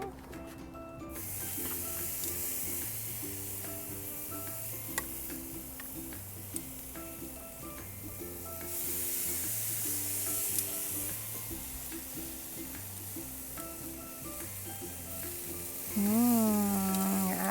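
Lemongrass-marinated chicken sizzles steadily on a grill, a continuous crackling hiss beneath a looping musical backing, with a brief louder swell near the end.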